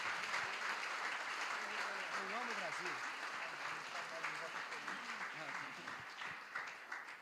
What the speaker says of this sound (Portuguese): Você pode aplaudir Jesus pela vida do pastor Henrique?